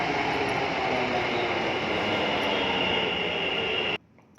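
A metro train in motion: a loud, continuous rumbling roar with a faint high whine that stays steady for about four seconds, then cuts abruptly to near quiet with a small knock at the end.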